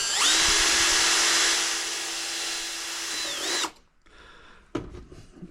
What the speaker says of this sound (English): 3mm drill